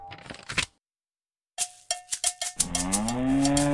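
A cartoon cow in the Play-Doh World kids' game, preceded by a short cartoon sound and a rapid run of cowbell-like clanks, then a loud, drawn-out moo close up.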